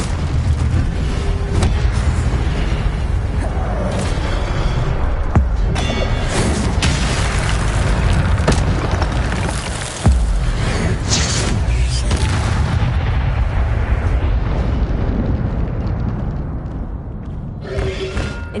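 Spell combat in Hogwarts Legacy with Incendio fire blasts: loud, dense booming bursts and thuds that come again and again over a steady roar of battle, with a short dip near the middle.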